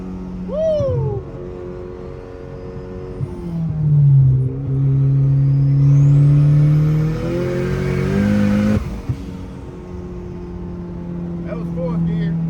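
A Honda Civic EF engine revs up and pulls hard through successive gears, pitch climbing then dropping at each shift, loud and close from inside the car, with brief speech near the start.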